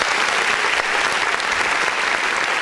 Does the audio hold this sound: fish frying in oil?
no